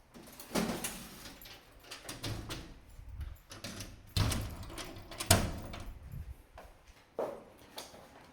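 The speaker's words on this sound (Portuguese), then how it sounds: "Deixa eu encostar aqui a porta" Indoor door being pushed closed, with several separate thumps and bumps of the door and frame spread over eight seconds, some louder knocks among quieter rattles, in a quiet room.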